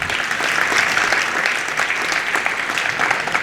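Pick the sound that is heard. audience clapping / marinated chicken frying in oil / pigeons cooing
audience clapping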